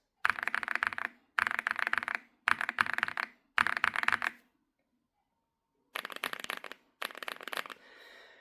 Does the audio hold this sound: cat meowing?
no